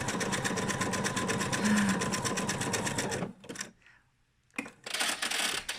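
A sewing machine stitches around the edge of a felt heart, its rapid, steady mechanical whir running close and loud, then stopping for a pause before starting again in short bursts.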